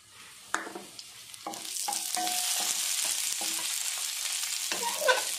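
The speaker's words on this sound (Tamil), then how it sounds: "எண்ணெய் சூடானதும் கடுகு போடலாம் கடுகு பொரிய ஆரம்பிச்ச உடனே உளுத்தம் பருப்பு" Mustard seeds, urad dal and cumin hit hot oil for a bitter gourd thokku, a close sizzle that builds and holds steady with scattered popping crackles and stirring clinks.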